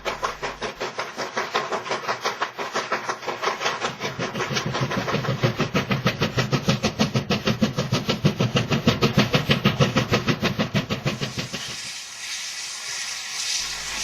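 Steam locomotives working in tandem haul a train up the mountain grades of Jingpeng Pass in Inner Mongolia, loud rapid rhythmic exhaust chuffs pounding steadily before fading off abruptly near the end.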